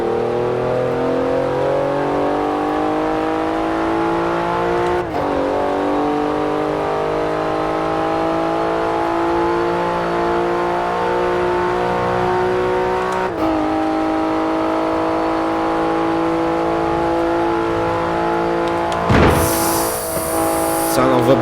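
Full-throttle acceleration in a Porsche 911 Turbo S heard from inside the cabin: the engine tone climbs steadily, cut by two quick gear shifts, with a dense, loud drone throughout and a brief noisy burst near the end.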